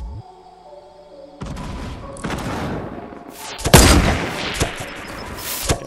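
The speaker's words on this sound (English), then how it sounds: "They're throwing nades at me." Fortnite gameplay with grenade explosions and gunfire, a low rumble giving way to loud booming blasts and rapid shots that build into a dense, chaotic barrage.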